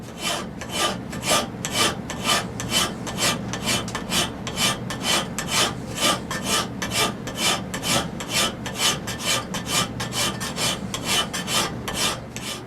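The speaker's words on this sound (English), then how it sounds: "we're gonna hand profile this knife edge right here" A file is worked by hand along the edge of a 24-layer knife blade being profiled, a close, regular rasping of steady back-and-forth strokes, roughly two per second, with nothing else heard.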